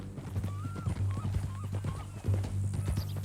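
A horse's hooves clip-clop on the ground in Red Dead Redemption 2, a steady rhythmic walking beat close by, joined by brief voice-like tones partway through.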